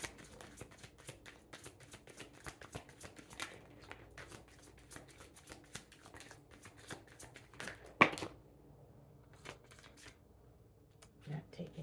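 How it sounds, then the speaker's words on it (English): Tarot cards are shuffled up close in quick riffling bursts, with short pauses between, quiet and crisp, ending with a few scattered taps. "we're just going to shuffle and see what comes out."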